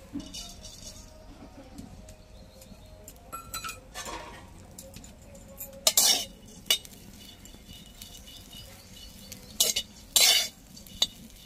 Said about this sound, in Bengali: এই শুকনো কড়াইতেই আমি ফুলগুলো আগে নেড়ে নেব